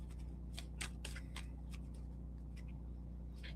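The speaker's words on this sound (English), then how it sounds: "Let's shuffle them." Tarot cards are shuffled by hand in quick, crisp riffles and flicks, close but soft, over a steady low electrical hum.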